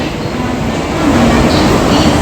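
Steady rumble and rattle of a moving commuter train heard from inside a carriage, continuous and fairly loud throughout.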